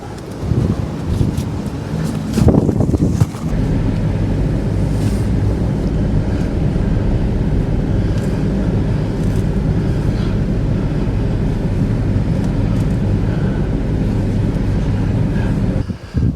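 Tractor pushing a heavy snowblower uphill through a blizzard, a loud steady low engine drone with gusting wind noise battering the microphone and a brief louder burst early on.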